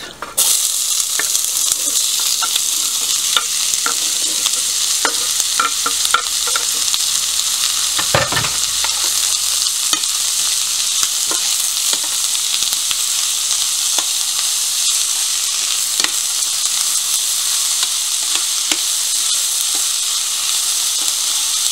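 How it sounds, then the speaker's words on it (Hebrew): Two large diced onions frying in hot oil in a pan, with a loud, constant hiss and sizzle close by and occasional scraping and clacks from stirring. "לטגן עד הזבה, מדי פעם לערבב."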